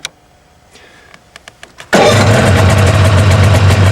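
A snowmobile engine is started with a key: a few faint clicks and cranking ticks come first, then the engine catches and settles into a loud, steady, close idle.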